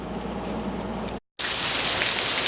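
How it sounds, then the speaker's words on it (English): Heavy rain pours down in Arkansas at the end of a hot summer, a dense, loud, continuous hiss broken by a short silent gap midway. "Look at this rain. This is the first rain we've had like this since the spring."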